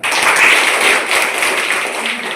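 Children clapping together in a classroom, a loud, dense and continuous burst of applause lasting a couple of seconds, with no talk over it.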